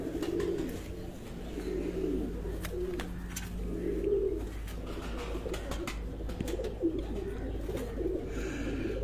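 Show pigeons kept at a home in Sargodha coo in repeated soft, throaty phrases, several birds overlapping in a continuous low murmur nearby, with scattered clicks and a steady hum underneath.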